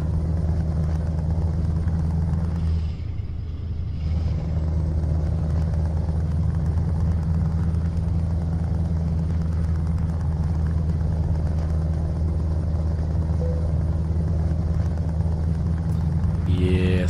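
A heavy truck engine with an open pipe exhaust in Euro Truck Simulator 2 drones continuously with a deep, throaty rumble, dipping briefly early on before holding a steady loud idle.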